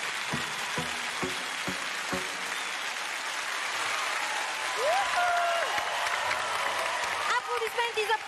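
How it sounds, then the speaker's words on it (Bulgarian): Studio audience applauding a winning team of three girls at a game show, a steady crowd clapping wash with a few sharp isolated claps at the start and a brief musical tone partway through. "Аплодисменти за Памела, Нели, Теодора и отбор Тита."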